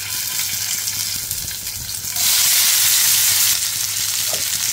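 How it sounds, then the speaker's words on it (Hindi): Green chillies stuffed with kheema sizzle steadily in a pan, a loud continuous frying hiss that swells louder halfway through, with no talk over it. "अब मिर्चियों को क्या करेंगे, फ्राई कर लेंगे।"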